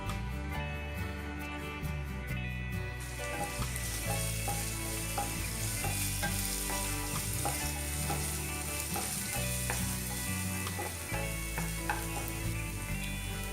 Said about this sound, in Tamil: எண்ணெய் காஞ்சதும் பொடியாக நறுக்கின இஞ்சி, பொடியாக நறுக்கின பூண்டு, இது ரெண்டையும் சேர்த்துடலாம்